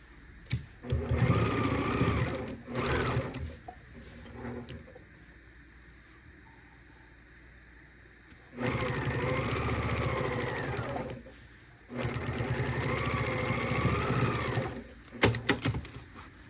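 A sewing machine stitches a quilted table runner in several loud, close runs of rapid mechanical whirring, some brief and some several seconds long, with quiet pauses and handling noises between them.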